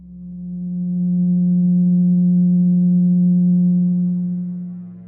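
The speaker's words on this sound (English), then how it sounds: "let's listen to what the 180 total degrees contained in a triangle sound like" A pure 180 Hz sine tone representing a triangle's 180 degrees swells in, holds steady and loud, then fades out, a single sustained low hum with nothing else heard.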